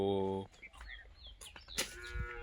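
Cows on a village farm give a loud, deep moo up close, followed by quieter farmyard rustling and faint background noise.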